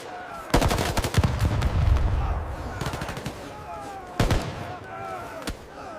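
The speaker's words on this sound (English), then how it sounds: "The brutal sound of suppressing fire." Machine gun suppressing fire in short bursts during a frozen 1942 German retreat in the Caucasus: several loud, close, rapid volleys of sharp shots separated by brief pauses, with one final shot near the end.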